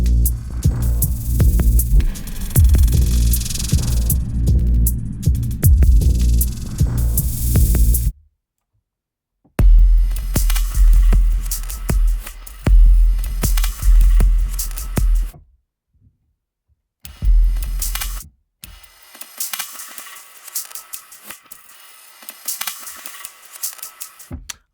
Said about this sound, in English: that's one of the natures of this glitch electro kind of drum kits is the sounds still fit even if they become a little bit of deterioration